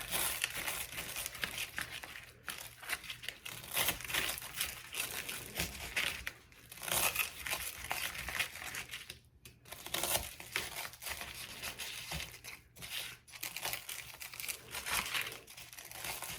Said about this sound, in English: I'm going to cut up this piece of toast that I made to make breadcrumbs.